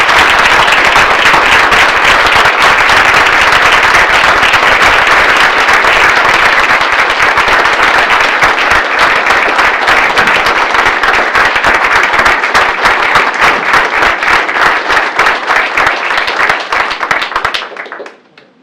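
Loud, dense applause from a large keynote audience, steady sustained clapping with occasional sharper claps, continuing for several seconds before cutting off abruptly.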